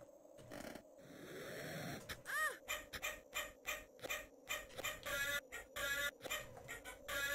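Enemy bird in the Amiga game Barbarian, a harsh repeated squawking cry with rising chirps, bursting out in rapid rhythmic pulses over game sound effects.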